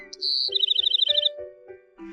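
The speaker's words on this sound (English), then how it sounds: "The birds came and sang on it." A short cartoon-style birdsong effect: a rapid trill of bright chirps over a soft chiming melody, brief and clean with no talking.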